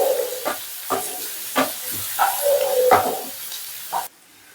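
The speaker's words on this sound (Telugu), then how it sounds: "ఆనియన్ లైట్గా అంటే పచ్చివాసన పోయేంత వరకు ఫ్రై చేసుకుంటే సరిపోయింది" Onion and capsicum sizzling in a pan for street-style pav bhaji, a steady hiss broken by regular stirring scrapes roughly every half second, close and alone, ending abruptly.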